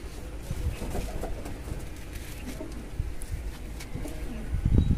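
Pigeons coo softly and repeatedly at close range, low rounded calls rising and falling over light rustling and wing movement, with no talk.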